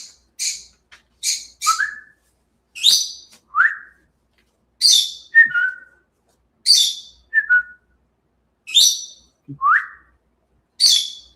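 A pet bird in its cage whistles a repeated phrase of sharp, high, clear notes, each followed by a lower slurred tone, about ten calls in steady rhythm, close and loud against silence.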